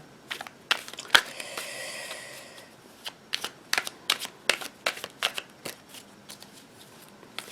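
Tarot cards being shuffled close up in a quiet room, a quick riffle followed by a run of soft, irregular card slaps and flicks.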